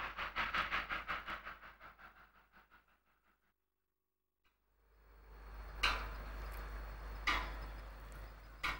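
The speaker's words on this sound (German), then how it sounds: "Bei der Ausfahrt aus Vancouver zeigte die einstige Southern Pacific Lok Anfang Mai noch einmal, was in ihr steckt" A former Southern Pacific steam locomotive pulls out of Vancouver, its rhythmic exhaust chuffs fading out, then rising again with loud, sharp bursts of steam over a rumbling engine.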